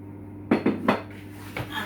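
Plain flour and butter go into a mixing bowl with a few quick clinks and knocks against the bowl, close and crisp, then a faint final tap.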